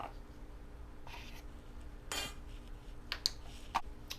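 A utensil stirs dry baking powder, baking soda and cornstarch in a bowl. Faint scraping comes first, then a few light clinks against the bowl, all at low volume.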